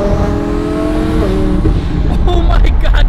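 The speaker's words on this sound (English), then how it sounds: "This car sounds absolutely crazy." A twin-turbo Lamborghini Huracán drives with a loud, close engine drone that shifts pitch as it revs and changes gear, with voices faintly underneath.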